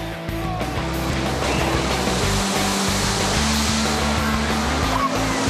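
Poseidon water roller coaster ploughing through its splash section, a loud, rushing wash of water spray over a low rumbling ride mechanism, steady and close for several seconds.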